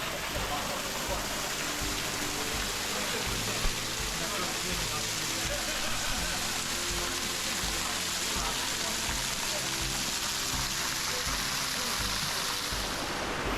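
Broad, continuous rushing of water from a waterfall at Hanging Rock State Park, a dense steady roar that fills the scene from start to finish without letup.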